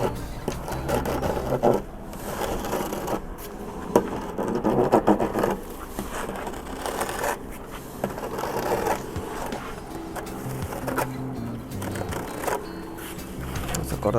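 Cutting away excess cement from the eight sides of a hanging cement flowerpot mold on a work table, a continuous close scraping and rasping with uneven strokes and occasional small knocks.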